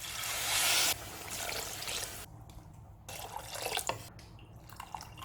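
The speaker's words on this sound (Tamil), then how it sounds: "தண்ணி சேர்த்துடணும்." Water pours into a pot of sprouted green gram curry with a rushing splash, then trickles and drips into the liquid in short, uneven bursts.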